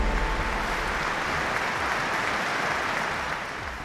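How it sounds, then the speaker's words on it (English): A football stadium crowd applauds in tribute to murdered six-year-old Arthur Labinjo-Hughes, a dense, steady wash of clapping that holds loud throughout and eases slightly at the very end. "Football's applause for Arthur Labinho Hughes, the touching tribute to the murdered 6-year-old"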